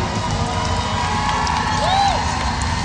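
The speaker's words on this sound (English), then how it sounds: "All right, ladies, you got to cheer on your lady there" A crowd at a tough truck event cheers on a female driver in a Volkswagen, a loud steady roar of voices with a whistle rising over it near the middle.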